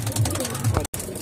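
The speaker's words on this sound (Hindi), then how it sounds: "ये पंजाबी कबूतर है" A Punjabi breed pigeon cooing close by, two low soft coos in quick succession, brief and near.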